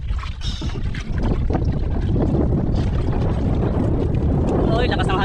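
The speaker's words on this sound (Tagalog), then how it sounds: "lakas ng hangin" Strong wind buffeting the microphone on a fishing boat at sea in rough waves, a loud continuous low roar and rumble throughout, with someone talking over it.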